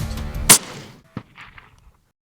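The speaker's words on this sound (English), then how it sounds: "Took a deep breath, took my time, and I took the shot." A single sharp hunting rifle shot at a springbok, close and loud, followed by a faint echoing report and quiet outdoor sounds as it dies away.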